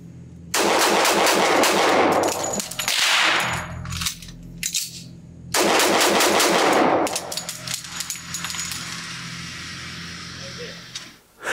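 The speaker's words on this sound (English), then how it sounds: "I'm just going to see how quick I can change the magazine and how the gun performs." A Sig P227 double-stack .45 pistol fires two long strings of fast, loud shots close by, split by a short pause for a magazine change, then quieter handling noises.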